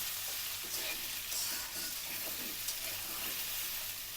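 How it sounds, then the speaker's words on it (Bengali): Steady, dense sizzling of taro frying in a pan, a continuous crackle with no voices. "আমি একটু কচুটা আলু আলুর মতো ভেজে নিলাম"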